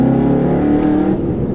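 A 2014 Ford Mustang GT's V8 engine revs hard under acceleration, a loud, steady roar of throaty harmonics that holds close and strong throughout with no talking.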